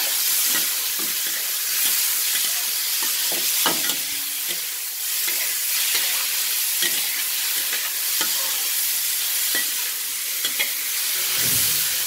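Bitter gourd and chili stir-fry in a hot wok, a dense, continuous sizzling hiss with occasional clinks and scrapes of stirring, close and alone.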